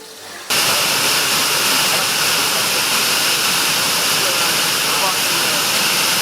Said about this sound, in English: so all I'm going to do is put some more cold water in